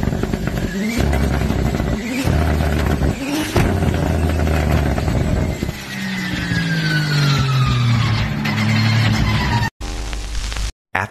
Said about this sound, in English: Afterfire from this car with no hood at the car show?